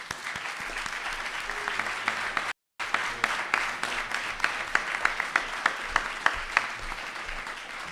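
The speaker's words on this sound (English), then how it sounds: "Clapping is in order" Delegates in a Model UN general assembly hall applaud after a resolution passes, producing a broad, continuous clapping that breaks off for a brief silent gap and resumes, with some sharper individual claps standing out near the end.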